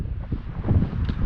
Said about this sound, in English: It is literally windy constantly around this time of the year